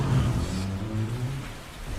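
Steady rain in the video game Resident Evil Zero, a dense, continuous wash of noise with a low rumble underneath, loud and unbroken with no talking.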